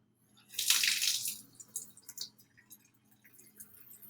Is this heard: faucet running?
yes